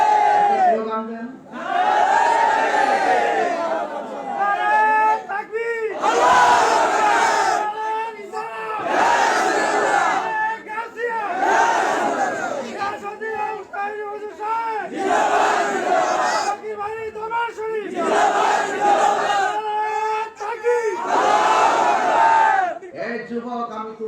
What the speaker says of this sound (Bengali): স্লোগান দেন।